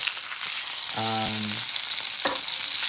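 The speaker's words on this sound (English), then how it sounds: "we're gonna get that sear right now" A bone-in steak sears loudly in a hot pan as it is pressed down, giving a steady, close, hissing sizzle with a brief squeaky tone partway through and no talking.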